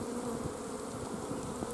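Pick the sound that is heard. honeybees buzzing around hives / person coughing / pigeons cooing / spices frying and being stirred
honeybees buzzing around hives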